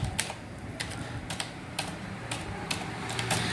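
Fingers tapping on a computer keyboard while writing in a document, a quick irregular run of soft clicks close by in a quiet room with a low hum underneath.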